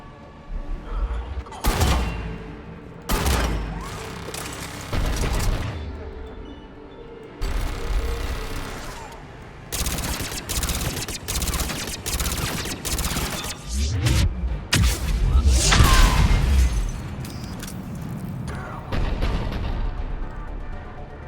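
Heavy turret gunfire in the video game Mass Effect 3 during an assault on Cerberus operations, loud bursts and booming impacts arriving in repeated volleys with brief lulls, intensifying into a dense barrage near the middle before easing off.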